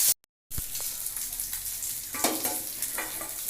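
Fish frying in plenty of hot oil gives a steady, close sizzle with crackling bursts and a few brighter pops. A short thud and a moment of silence come at the very start, and no one speaks.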